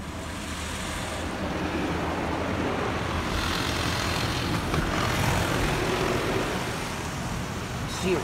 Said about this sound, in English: Now we're getting spot free rinse.